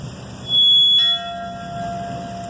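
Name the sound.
memorial bell tolling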